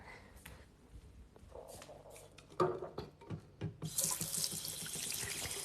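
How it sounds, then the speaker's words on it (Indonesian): Water runs from a tap into a sink while hands are washed after eating, with splashing and clattering bursts before a strong, steady gush of flowing water fills the latter part, close and alone without talk. "Aku mau cuci tangan dulu karena habis makan."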